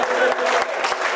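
Audience applauding at a Hindi comic poetry gathering, a brief burst of dense clapping from a crowd, fairly loud and continuous for about a second, mixed with a voice.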